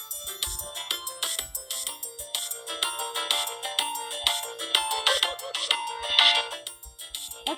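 A Roblox boombox in Flood Escape 2 playing a song, a bright, busy electronic melody with a steady rhythmic pulse, moderately loud and continuous with no voices over it.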